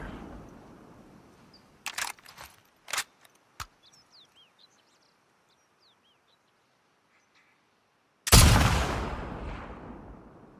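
Sniper rifle in The Last of Us Part II fires a few sharp, isolated cracks, then after a quiet stretch one louder, booming shot with a long fading tail.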